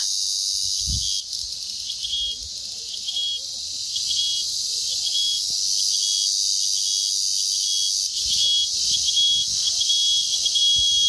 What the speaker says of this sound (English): we begin to hear cicadas. And they get louder and louder